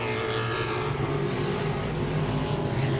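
Modified race cars roar around Langley Speedway in a close pack battle, a loud continuous engine drone with layered motors holding steady throughout.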